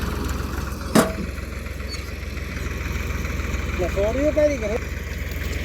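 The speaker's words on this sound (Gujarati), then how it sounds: "કમ્પ્રેસર" A steady low drone from a compressor engine runs throughout, with a sharp knock near the start and brief voices rising over the hum toward the end.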